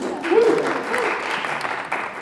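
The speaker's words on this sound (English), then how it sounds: "Round of applause." An audience breaks into applause after a circus trick, a moderately loud burst of clapping that holds for a couple of seconds, with a brief voice near the start.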